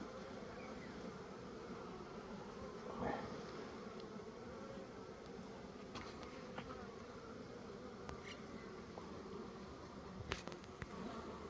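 Honeybees buzzing in an opened beehive as colonies are merged, a soft continuous swarm hum with individual bees droning past close by now and then, steady and fairly quiet with no talk.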